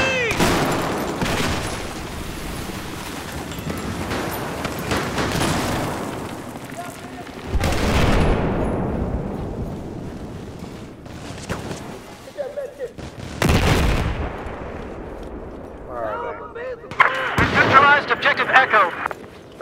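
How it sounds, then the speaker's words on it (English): Grenade blasts and heavy gunfire on a Battlefield 4 multiplayer battlefield, with loud booming explosions near 0, 7.5, 13.5 and 17 seconds amid continuous rattling shots, while players shout and talk over the fighting. "Grenade!"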